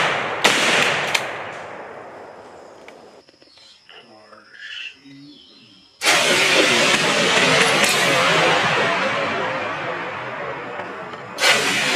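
Shotgun blasts during a coyote hunt outdoors, two loud reports, one early and one midway, each with a long decaying echo; faint talk can be heard between the shots.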